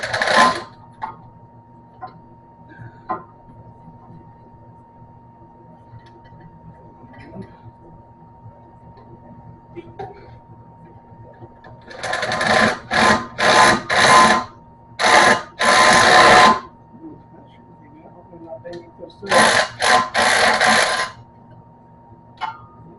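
Impact wrench driving hammer bolts on a Stutenroth impact mill, several short loud bursts of rattling hammering in two clusters, over a low steady hum with scattered small clicks.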